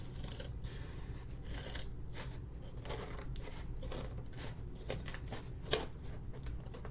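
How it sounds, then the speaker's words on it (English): Close, crisp snipping of large scissors cutting through paper and cardboard, a steady series of rasping cuts with small crinkles between them, no voices. "cutting with big scissors isn't the most precise thing ever"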